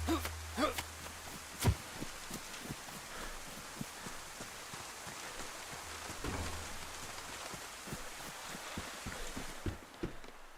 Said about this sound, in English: Let's get out of the rain, shake off a minute.